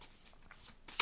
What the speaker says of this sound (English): All right, I'm going to pull some cards.